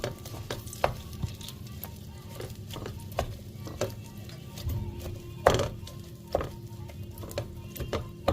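Two spoons of ghee heat in a pan while date rolls are being made, with a soft, steady sizzle and sharp clicks and scrapes of stirring close by.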